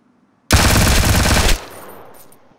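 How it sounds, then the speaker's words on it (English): A single loud, close burst of rapid automatic gunfire from a player's weapon in the Ring of Elysium video game lasts about a second, then cuts off into a fading echo tail. "Is that you shooting? That's me shooting."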